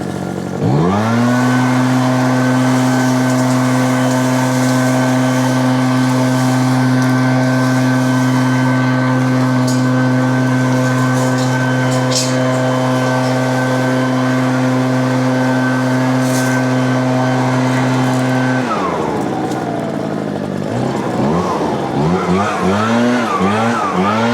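An Echo PB9010T gas backpack leaf blower runs at full throttle with a loud, steady engine roar and strong droning hum, then winds down and drops to idle near the end.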